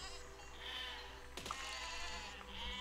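Sheep bleating in the video game Besiege, several wavering bleats layered over a steady hum of game sound, with a sharp impact near the middle and no talk.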